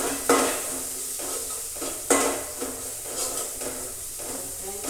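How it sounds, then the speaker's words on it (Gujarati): Spices being stirred and mixed in a pan while cooking kadhi roti, with a soft steady sizzle and a few scraping clinks of a spoon against the metal, close and clear with no talking. "તો આપણે મસાલા સારી રીતે મિક્સ કરી લઈએ"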